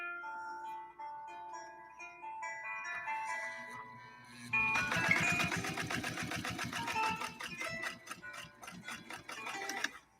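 Necchi Lelia 512 sewing machine stitching: after a stretch of quiet music, a fast, even mechanical clatter starts and runs steadily at close range, with the music continuing faintly underneath.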